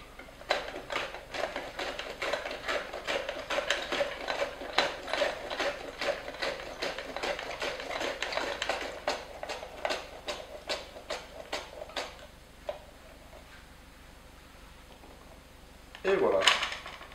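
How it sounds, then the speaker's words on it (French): Fennel sliced very thinly on a mandoline set to its finest setting, a fast steady run of about twenty-five sharp, evenly spaced blade strokes, close and crisp, stopping abruptly before a brief scrape near the end. "Toujours à l'aide de notre mandoline réglée le plus finement possible,"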